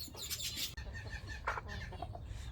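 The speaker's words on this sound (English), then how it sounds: "Happy chickens." Chickens clucking inside a loud grower's shed on a farm, a dense, close chorus of hens with a few sharper calls standing out over steady barn noise.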